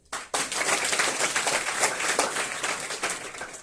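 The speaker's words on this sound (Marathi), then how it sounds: "टाळ्या वाजवा ठीक आहे." Audience applause in a lecture hall during a motivational talk to rural students: dense, sustained clapping from many hands that starts abruptly and fills the whole stretch, with no speech over it.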